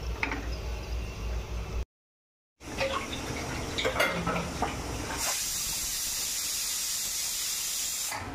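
Steady loud hiss of steam from a pressure cooker whistle on a gas stove while cashew curry cooks, with a brief break and a sharper, brighter release near the end.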